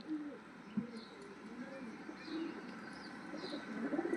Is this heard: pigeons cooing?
yes